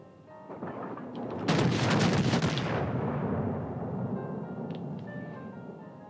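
A heavy warship salvo booms in World of Warships: Legends, a loud roaring blast that swells and slowly rumbles away, with faint game tones behind it.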